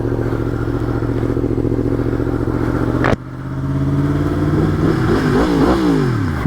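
Yamaha FZ-10 motorcycle engine idling steadily up close, then a sharp thump and a series of rising and falling revs that swell in pitch.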